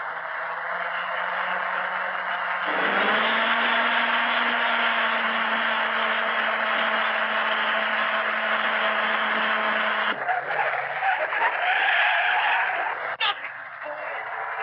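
A car skids under reckless driving, tyres squealing in a sustained, loud whine that rises and holds for several seconds, with engine noise and brief voices mixed in.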